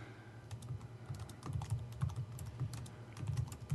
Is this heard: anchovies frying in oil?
no